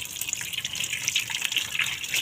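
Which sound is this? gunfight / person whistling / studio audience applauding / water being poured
water being poured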